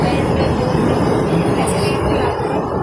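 A metro train rumbling along the rails, a steady loud roar with low clattering throughout, heard from inside the car.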